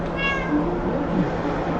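A house cat, awake by a window and coaxed with treats, gives a soft, brief meow near the start over a steady low indoor hum, then stays quiet.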